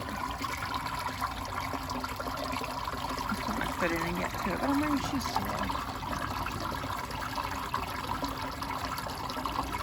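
Shallow creek water flowing and trickling steadily in a continuous soft wash close by, while someone talks over it.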